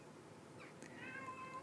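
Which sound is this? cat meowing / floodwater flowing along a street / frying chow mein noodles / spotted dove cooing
cat meowing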